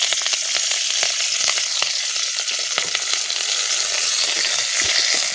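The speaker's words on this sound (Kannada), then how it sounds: "ನಾವು ಆವಾಗ ಸಂಗ್ರಹಿಸಿದಂತಹ ಎಲ್ಲ ಚಿಗುರು ಎಲೆಗಳನ್ನು ಇದಕ್ಕೆ ಹಾಕಿಕೊಂಡು ಇದನ್ನು ತುಪ್ಪದಲ್ಲಿ ಫ್ರೈ ಮಾಡಿಕೊಳ್ಬೇಕು" Tender young leaves frying in ghee in a pan, a bright continuous crackling sizzle with scattered pops and spatters, loud and close throughout without any voices.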